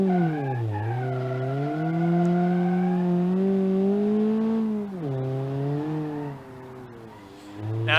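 A station wagon drives an autocross course in BeamNG.drive, its simulated engine droning loudly and swelling and dipping in pitch with each throttle change, while tires squeal throughout the continuous run.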